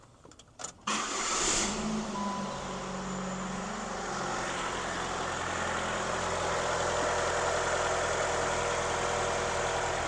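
A 2003 Saturn Vue with the GM 2.2 Ecotec engine, just after a timing chain and water pump replacement, cranks briefly, catches and settles into a steady, even idle close by.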